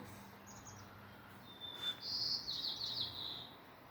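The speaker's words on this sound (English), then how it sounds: "Bird up in the top." A bird sings from the top of a tree in a quiet spring garden planted with Japanese maples, a faint, high twittering phrase arriving after a moment of near-silence and continuing to the end.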